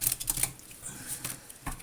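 Cards from a reading deck are shuffled by hand nearby, producing a loose series of crisp clicks and papery flutters in uneven bursts, with no talk.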